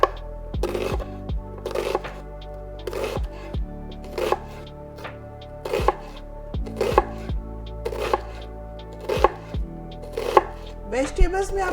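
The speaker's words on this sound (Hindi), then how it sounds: "प्याज को बारीक बारीक सा काटना है।" Onions and mixed vegetables chopped finely for pakoras, the knife tapping crisply against a board in quick irregular bursts of several strokes, close and clear, with short pauses between runs.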